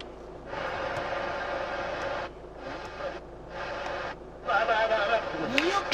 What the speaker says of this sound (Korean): 주파수를 약간 잘 잡지 못해서 약간의 지지직 소리는 나고 있는데